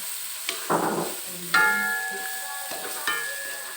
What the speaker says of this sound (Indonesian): Minyak udah tunggu loh, minyak udah panas, kita masukkan bawangnya